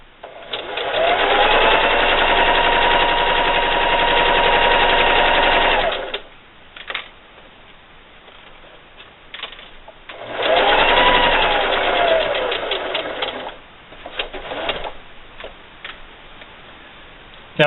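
A sewing machine stitches fabric for a drawstring bunny bag in two steady, rapid runs, each lasting several seconds. Between them come quiet pauses with small clicks as the presser foot is lifted and the fabric is turned.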